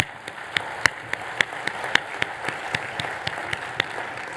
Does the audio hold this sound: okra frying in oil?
no